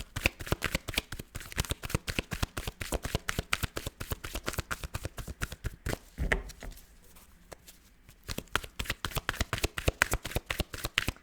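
A tarot deck being shuffled by hand, with rapid, crisp card riffles repeating in a steady flurry up close, a brief pause near the middle, then the quick shuffling resumes.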